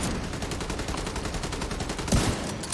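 Rapid automatic gunfire from Tom Clancy's The Division 2 chatters in an even, quick rhythm throughout, fairly distant and moderately quiet, with a slightly heavier burst near the end and no talking.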